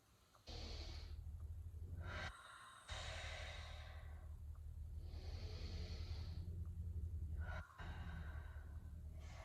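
Slow, deep breaths held through a shoulder mobility stretch on a mat, several long drawn-out exhales and inhales close by, over a steady low background hum.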